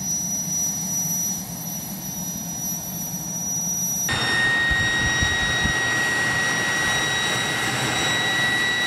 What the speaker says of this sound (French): On trouve des turbines aussi bien dans les avions que dans les hélicoptères on les reconnaît à leur sifflement caractéristique.